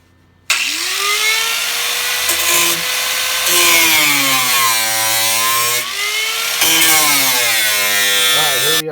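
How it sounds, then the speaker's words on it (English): Cutoff wheel slicing through rusty trunk steel on a 1955 Buick Special undergoing rust repair, a loud, close, high-pitched grinding whine that starts abruptly and wavers in pitch as the wheel bites and eases. "I'm going to cut with the cutoff wheel so I can get straighter lines"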